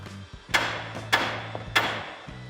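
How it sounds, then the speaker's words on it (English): Three sharp metallic hammer strikes ring out at roughly half-second intervals against a truck's steering knuckle to dislodge the ball joint, close and distinct, with a faint hum between blows. "Now we can grab a hammer and start tapping on the side to dislodge the ball joint."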